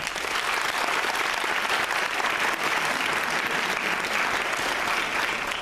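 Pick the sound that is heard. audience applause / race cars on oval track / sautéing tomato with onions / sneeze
audience applause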